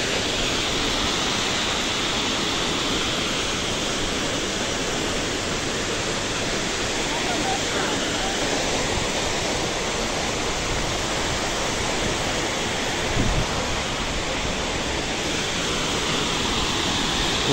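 Tortum Waterfall in Turkey, the country's largest, roars as a steady, dense wash of falling water, loud and unbroken from start to finish with no voices heard.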